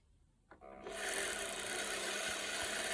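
A Janome sewing machine starts winding a bobbin after a soft click, spinning up within half a second into a steady, close, high-pitched whir that holds evenly to the end.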